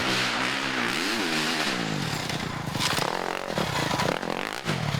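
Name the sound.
KTM enduro motorcycle revving on a trail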